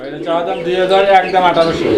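Fancy pigeons for sale coo softly in a steady murmur, layered with chirps, while someone talks over them throughout.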